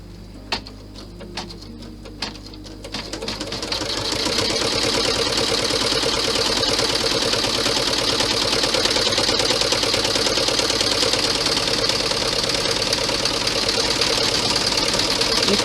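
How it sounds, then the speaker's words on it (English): A sewing machine stitches vinyl onto fabric for a compact bag, starting with a few scattered clicks and then settling into a loud, fast, steady mechanical whirr that runs unbroken to the end. "And I put the vinyl on the top, and so, like that, and stitch them two together."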